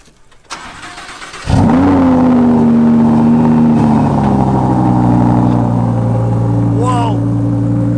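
A Lamborghini engine cranks and fires, then settles into a loud, steady idle. There is a light noise just before the start and a brief sharp sound near the end.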